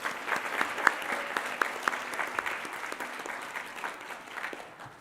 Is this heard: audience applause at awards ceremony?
yes